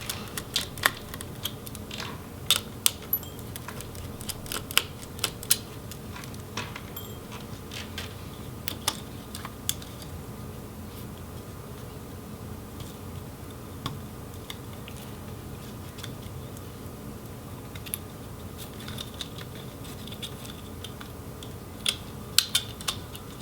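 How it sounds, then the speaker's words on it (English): Screws being removed from an Asus Zenbook UX580G laptop, heard as quiet, sparse metallic clicks and small taps scattered irregularly over a low steady background hum, close and faint. "we'll remove the screws"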